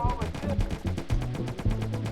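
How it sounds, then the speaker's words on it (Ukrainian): Rapid bursts of automatic gunfire in a GTA video game aimed at drones, with sharp, evenly repeated shots crackling close and fairly loud over a busy background. "Давай, стріляй по дрону."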